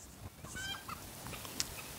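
Chickens cluck faintly in short, scattered calls over a steady background hiss, with a single sharper squawk near the end.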